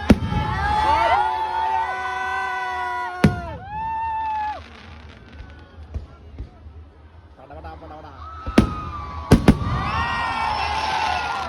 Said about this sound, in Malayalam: ന്യൂ ഇയറിന്റെ പടക്കം പൊട്ടങ്കിലൊക്കെ കഴിഞ്ഞിട്ട്